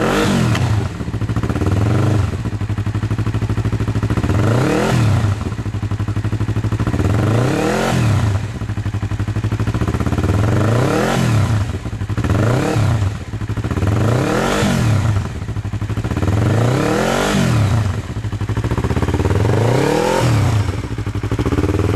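Yamaha R3 motorcycle with an Arrow full exhaust, warmed up, revved hard in repeated blips about every two and a half seconds over a steady idle, loud and close with no voices.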